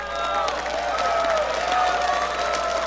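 Esports arena crowd cheering and applauding for Team WE during a League of Legends series against CLG.EU, a steady dense roar of clapping and shouts with tonal whistles or horns running through it, continuous for the whole stretch.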